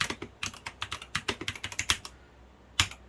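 Typing on an E-Yooso TKL mechanical keyboard with foam and lubed Gateron brown switches: soft, muted clacks in a quick uneven burst of keystrokes, close up, pausing briefly before a final few presses.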